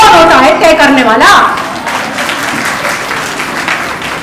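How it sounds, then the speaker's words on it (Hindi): An audience at the eleventh Madhya Pradesh AIDWA conference claps after a woman's inaugural speech, her voice giving way to a sustained patter of applause across the hall. "क्या तालियां बजा रहे हो ना?"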